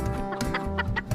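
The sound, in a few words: native free-range chickens clucking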